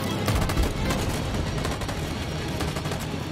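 Dense, continuous gunfire from the video game Detroit: Become Human, a steady rattle of overlapping shots with a few heavier thumps early on, loud and sustained throughout.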